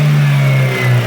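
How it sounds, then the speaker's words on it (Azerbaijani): A car engine revving hard during a repair check, holding a loud, steady, close-up drone that stays strong across the whole moment, with no voices over it. "Möhkəm qaz ver."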